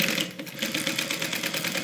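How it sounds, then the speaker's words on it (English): A sewing machine back stitching the seam of a tote bag, a brief rapid mechanical whir of needle strokes close by, with no talking. "We're going to back stitch when we start and when we stop."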